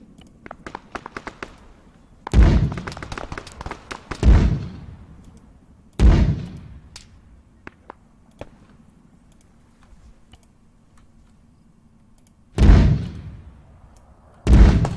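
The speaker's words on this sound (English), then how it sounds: "Let's just put a mortar strike across this tree line here." Mortar strike explosions land across a tree line in Arma 3 on the Tanoa jungle map: four heavy booming blasts at irregular intervals, each with a long rumbling decay, amid scattered distant gunfire clicks and pops.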